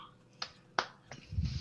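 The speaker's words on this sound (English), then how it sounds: "I start clapping." Three sharp, separate hand claps at a tabletop D&D 3.5e role-playing session, spaced under half a second apart, followed by a low rumbling noise.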